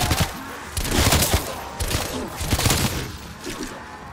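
Rapid gunfire from a weapon in the zombies mode of Call of Duty: Black Ops Cold War, bursts of shots rattling across the whole clip with a few louder thumps among them.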